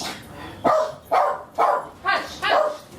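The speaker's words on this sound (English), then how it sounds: "Sorry about that, that's my dog." A pet dog barking indoors during a remote interview, five loud close barks spaced about half a second apart in a steady rhythm.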